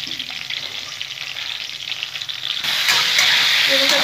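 Boroli fish frying in hot oil, a close, continuous crackling hiss that jumps noticeably louder and brighter partway through and stays intense to the end.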